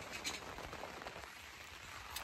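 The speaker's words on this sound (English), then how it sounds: "We got rain, guys. It's raining." Steady rain pattering on a hot tent, a dense continuous hiss of drops on fabric heard from inside, even and unbroken throughout with no talking.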